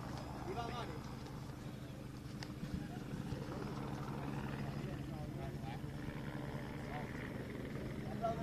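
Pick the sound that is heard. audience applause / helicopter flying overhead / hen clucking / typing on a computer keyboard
helicopter flying overhead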